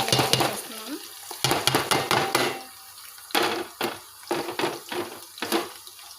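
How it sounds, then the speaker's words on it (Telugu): Chillies sizzling in hot oil in a pan for Andhra-style fish curry, stirred with a utensil in repeated scraping bursts, close and fairly loud with no talking. "తర్వాత మిర్చి సరిపడాన్ని వేస్తున్నాను."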